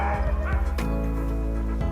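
Excited sled dogs bark in a quick, loud burst of several yips and woofs close by, followed by a steadier tonal sound underneath.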